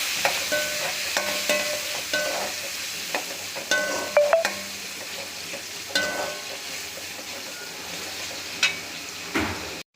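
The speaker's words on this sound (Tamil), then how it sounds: "அதையும் கலந்துக்கலாம். அதை நல்லா வதக்கணும்." Chopped large tomatoes being sautéed with spices in a pan for chicken curry, with close, intermittent spoon scrapes and clinks over a quiet background sizzle.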